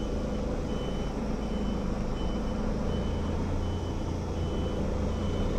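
Repeated reversing beeps from a semi-automatic camper van, a steady, moderately faint electronic beeping over engine hum, with no talk.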